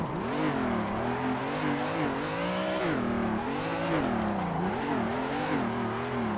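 Drifting car in the video game Assetto Corsa on Xbox One: a sustained, loud engine whine that rises and falls in pitch with each throttle blip, with tire squeal running steadily underneath, no talking.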